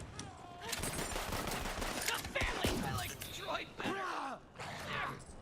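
Rapid bursts of gunfire from the video game Borderlands 3 pour out almost continuously, loud and dense, with shouting voices and game effects mixed in throughout.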